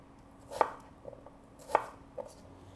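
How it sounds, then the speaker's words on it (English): A knife chops cucumber on a cutting board, cutting the pieces again vertically and then across. Two sharp, close chops land about a second apart, followed by a fainter tap, with no talking. "we would just cut these one more time vertically down that way and then again across"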